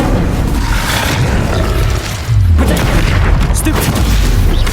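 An Incendio fire spell in Hogwarts Legacy bursts with a deep roaring boom over continuous loud game combat noise, with a shouted voice in the mix.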